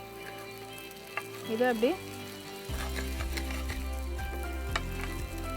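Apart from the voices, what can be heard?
tossing curry leaf idli in a pan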